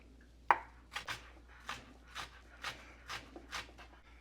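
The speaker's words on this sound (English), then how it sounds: "I'm going to continue chopping up all these vegetables." Vegetables being chopped for fajitas, a string of sharp knife strikes on a cutting board, about nine taps in an uneven rhythm, close and fairly quiet, with no one speaking.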